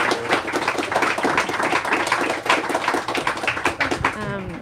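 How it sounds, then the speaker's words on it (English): Audience clapping at a book event with an author, a dense run of claps filling the room; a voice starts speaking near the end. "Let's give them another huge round of applause."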